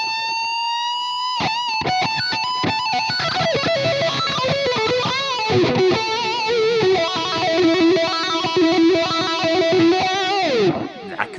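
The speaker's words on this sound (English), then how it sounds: "we have come back to the wah, and we are now going to use an LFO" Electric guitar through a wah effect on a Fractal FM3, FM9 or Axe-FX III, swept automatically by an LFO, giving a rhythmic, repeating vocal-like filter sweep over sustained distorted notes and chords, played alone.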